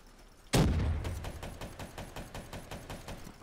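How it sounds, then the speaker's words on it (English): A grenade explosion in the video game Black Ops 3 erupts with a sharp, loud blast, followed by a crackling, rattling tail of rapid pops that gradually fades away. "shit I threw a grenade"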